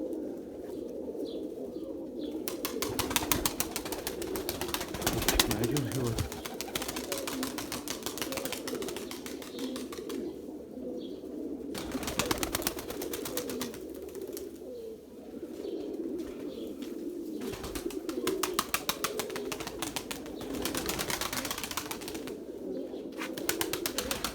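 Pigeons coo repeatedly in soft, low, throaty calls, several birds overlapping, with occasional rustles and bursts of noise around them, at a loft in Menemen, Izmir.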